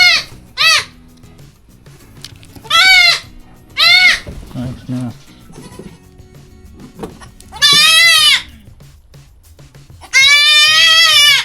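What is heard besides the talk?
goat bleating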